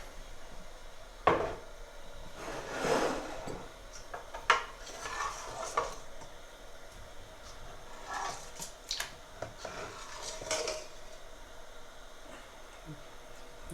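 Cooked sawaiyan, soft and slightly runny vermicelli with almonds, being scooped from a pot: soft scrapes and occasional light knocks of a utensil against metal, fairly quiet, with scattered pauses and no clear talking.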